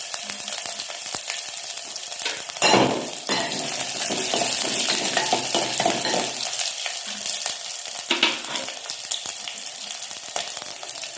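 Garlic with mustard seeds and dried red chillies sizzles and crackles in hot oil for a plain rasam tempering, steady close frying with stirring scrapes and a louder burst of spitting early on.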